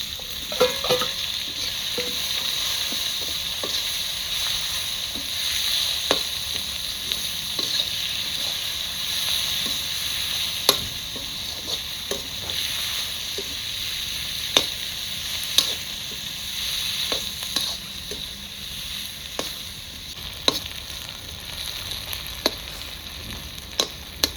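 Bay leaf and chopped onion fry in oil in a pan for a village-style fish curry with potato and eggplant, giving a steady close sizzle broken by occasional sharp crackles and pops, with no talking.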